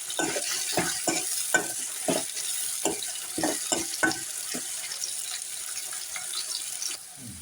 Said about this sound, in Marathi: आता आपल्याला ना छान असा कांदा आणि टोमॅटो जे आहे ना छान व्यवस्थित त्याला आपल्याला बारीक परतून घ्यायचं